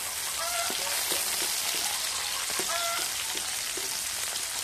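Chopped garlic sautés in a hot pan with oil, giving a steady close sizzle and crackle broken by soft clicks of stirring.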